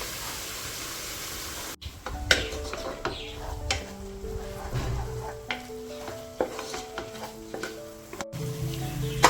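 Tomatoes for chicken biryani sizzle and fry in a pan while a spoon stirs and scrapes against the metal, with steady crackling and occasional clinks close by.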